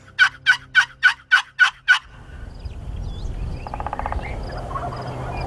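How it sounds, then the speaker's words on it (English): A wild turkey gobbler in Nebraska gives seven rapid, evenly spaced gobbles, clear and fairly close, then the calls stop and soft outdoor rustling and distant bird chirps take over. "The gobblers are back there gobbling on the backside of the knob, but they just won't break yet."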